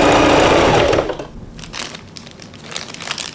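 Sewing machine stitching the front and back pieces of a dress together, its steady whir loud and continuous for the first second before dropping to softer fabric handling and rustling.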